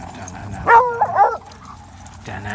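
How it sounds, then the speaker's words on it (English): A dog at a farm gives a short burst of yelping, whining barks up close, a brief cluster of two or three cries followed by quiet and a faint start of another sound. "Too much barking."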